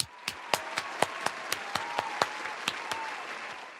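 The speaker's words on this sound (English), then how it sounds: "Claps." Rhythmic applause on a podcast, a dozen crisp, evenly spaced claps over a soft bed of crowd clapping, close and clear.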